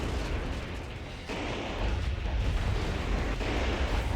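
A heavy stomp attack in a video game lands with a deep, rumbling boom, a dense low-end blast that swells and sustains loudly for several seconds like an explosion, with no talking over it.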